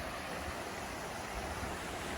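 Water flowing over rocks at a stream crossing on a hiking trail, a steady close rushing wash that holds even throughout with no voices.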